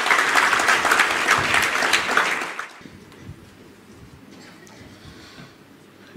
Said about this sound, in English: So give a big round of applause for all of you.